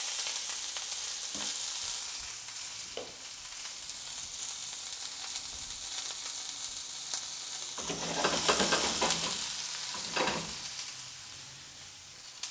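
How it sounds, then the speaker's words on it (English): Onions and peppers fry in olive oil with a bright, continuous close sizzle, swelling louder toward the end as they are stirred with a few clattering strokes. "a little olive oil, and then we're going to add our onions and peppers"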